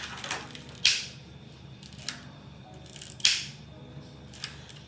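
Scissors snip through ribbon for a small fairy bow, making two sharp, distinct cuts with a few lighter clicks in a quiet room.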